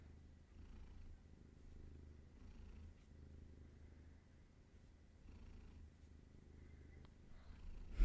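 Donna the cat purrs in a soft, continuous rumble while being petted and scratched, close and quiet with steady rhythmic breaths.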